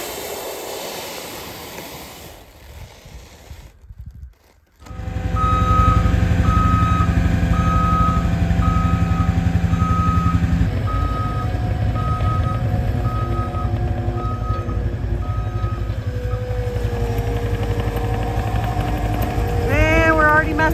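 A skid steer clearing snow from a gravel area sounds a steady, evenly spaced reversing beep over a loud, close diesel engine drone, with brief voices before the machine starts.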